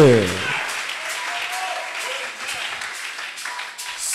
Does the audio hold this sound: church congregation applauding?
yes